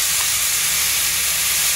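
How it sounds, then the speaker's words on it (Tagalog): Garlic and onions frying in olive oil, giving a steady, even sizzle and hiss that holds without a break for the whole short stretch. "Nilagyan niya na ng olive oil, garlic, tapos sibuyas."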